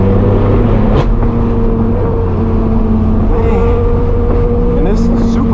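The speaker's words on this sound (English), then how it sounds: "And this super bike right here sounds really good." A BMW M superbike's engine and exhaust pass on the road among supercars, a loud droning roar with rising and falling pitch, heard from a straight-piped BMW M4 F82 with its own steady engine noise underneath.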